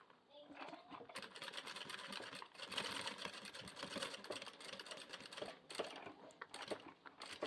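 A sewing machine stitches a fabric cosmetic bag with a steady, close mechanical whir and rapid needle chatter. The run has a few brief pauses, and light handling noises are mixed in.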